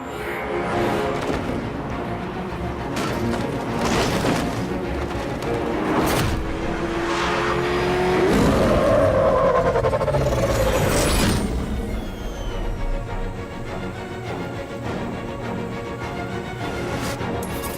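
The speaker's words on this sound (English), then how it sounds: "How are you gonna stop that car?" A car races in pursuit in Batman: Arkham Knight, with a loud engine roar, mechanical clanks and a sharp crash partway through over a constant driving rumble.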